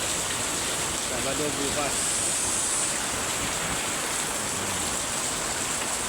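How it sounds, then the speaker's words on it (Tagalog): Steady rain falls on a weekday morning around a house in the Philippines, a dense, even hiss with no breaks running the whole time, with a voice speaking over it. "Gawa ng umuulan"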